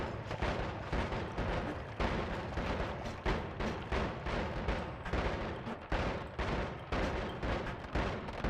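Enemy shotguns in the Noita roguelike fire a dense, steady barrage of sharp blasts that crackle in rapid overlapping bursts for several seconds, no voices.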